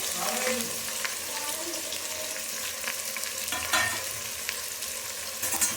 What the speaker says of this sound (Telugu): ఆనియన్స్ గోల్డెన్ బ్రౌన్ కలర్ వరకు వేయించుకోవాలి